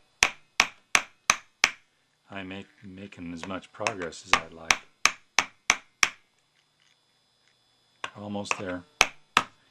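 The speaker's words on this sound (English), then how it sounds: "thought this little hammer was going to be real handy" A small hammer strikes a steel axle on a budget mini-sumo robot with sharp metallic taps in a steady series of about fifteen blows, pausing while someone talks and then resuming.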